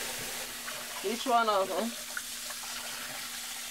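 Warm tap water runs into a sink while ribs are rinsed, a short splashing burst of about a second standing out over a quiet kitchen hum, with a person speaking briefly over it.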